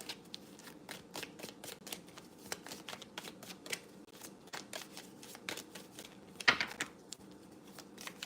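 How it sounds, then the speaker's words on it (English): A deck of reading cards is shuffled repeatedly at close range, giving a steady run of crisp riffling flicks and soft slaps that stay faint and continuous throughout. "Just going to shuffle some of these cards because they've been just going and going and going."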